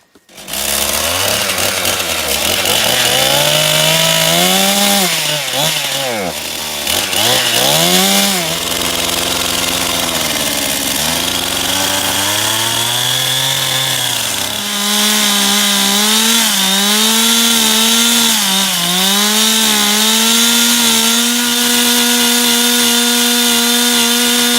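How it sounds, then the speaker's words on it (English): An adapted chainsaw cores into rock in a baked zone near jasper for paleomagnetism sampling. The engine roars loudly and continuously, pitch dipping and rising as the bit bites and frees, with no talk over it. "See how that's just really an adapted chainsaw?"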